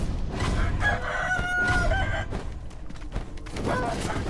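Roosters crow inside Sekiro: Shadows Die Twice, with a couple of drawn-out cock-a-doodle-doo calls heard over dense game noise and clucking fowl.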